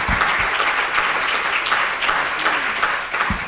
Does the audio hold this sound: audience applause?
yes